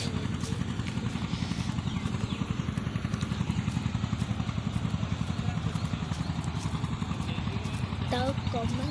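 A steel boat's engine thuds along in a fast, even rhythm that holds steady throughout. A voice can be heard faintly near the end.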